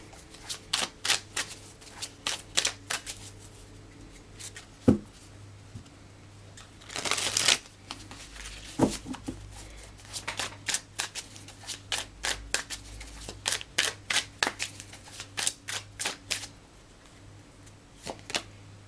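A deck of cards is shuffled and handled close by in a quiet room, with quick crisp riffles and flicks repeating in bursts, plus a few soft taps and pauses.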